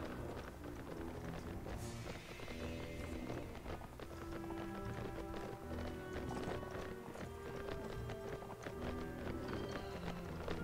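Horse hooves galloping in Mount and Blade Warband, a rapid, continuous drumming of hoofbeats amid a busy battle din, steady and fairly close throughout.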